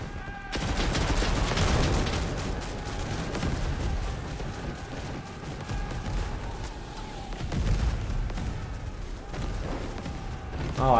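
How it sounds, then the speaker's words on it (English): Gunfire and explosions from the video game Over the Top, a dense continuous battle din of rattling shots and booms with a mortar-like impact, loud and sustained throughout. "I thought that was like a mortar shot that landed right there."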